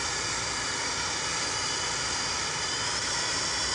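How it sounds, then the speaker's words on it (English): A steady, loud airplane engine roar from a Roblox flight game drones continuously without pause, a constant broadband whine with no talking over it. "I'm literally pulling the airplane up."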